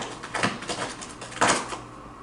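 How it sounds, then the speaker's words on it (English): Scraping, rasping bursts of a cat's claws on a cardboard box come in a few uneven strokes, two stronger ones standing out, close by with no talking. "That's my cat scratching the life out of a box."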